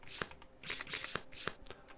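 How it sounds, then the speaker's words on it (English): Deck of game cards for the Kingdom Death board game being shuffled, several quick riffling bursts in a rapid uneven rhythm, close and fairly quiet with no talking. "So let's shuffle these up, not flip them over, shuffle them up."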